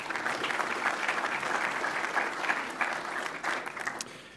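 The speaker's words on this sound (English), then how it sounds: "They deserve another round of applause." Audience at an investor forum applauding, a fairly quiet, distant-sounding ripple of clapping that swells slightly and then thins toward the end.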